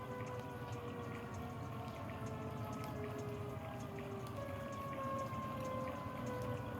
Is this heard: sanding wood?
no